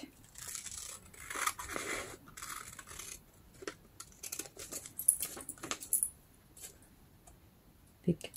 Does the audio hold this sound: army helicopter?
no